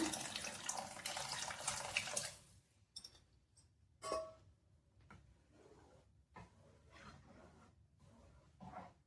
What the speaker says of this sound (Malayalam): ഗ്രേവിക്ക് അനുസരിച്ച് വെള്ളം ഒഴിക്കുക.